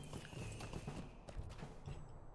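Horse hooves in the online game Lord of the Rings Online, quiet clip-clop steps under a dense, busy game soundscape, faint and with no talking.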